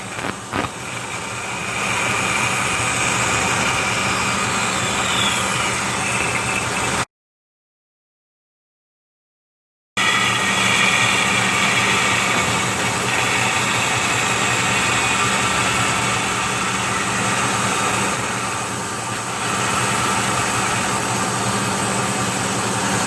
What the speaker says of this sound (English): I'm going to use the bandsaw.